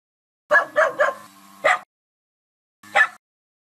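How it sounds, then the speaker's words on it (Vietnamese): A dog barking: three quick yips in a row, a longer whining bark, then one more bark after a pause, close and clear against silence. "Nó đang sủa để giữ nhà."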